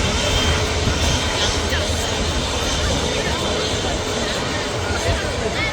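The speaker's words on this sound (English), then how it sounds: "Another A350 departs. Singapore Airlines this time." A Singapore Airlines Airbus A350 departing Manchester Airport, a loud, steady jet engine roar filling the scene throughout, with speech and crowd babble faintly underneath.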